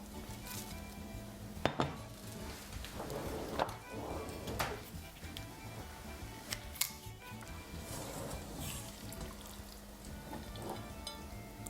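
Plates and cutlery clink and clatter in a home kitchen while ragù alla bolognese is plated, with several sharp knocks and scrapes over a low steady background hum.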